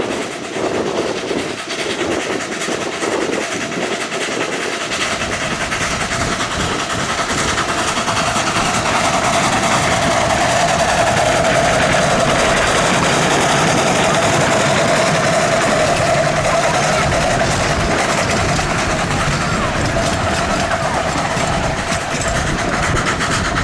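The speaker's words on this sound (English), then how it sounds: "Number one was the only main steam engine I hadn't filmed at this cutting yet" Steam locomotive number one runs past a cutting on the Hesston's railway at Christmas, a continuous loud rumbling roar with clattering wheels and a steady hiss rising over about twenty seconds.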